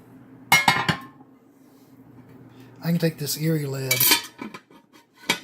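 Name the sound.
cast iron Erie lid placed on a Wagner pan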